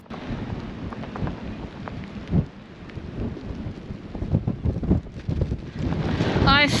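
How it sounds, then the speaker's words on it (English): Strong coastal wind buffets the microphone on the basalt cliffs at Carrick-a-rede in Northern Ireland, a loud, steady roar with gusts that swell toward the end. No one speaks. "I say, it's a right stiff wind"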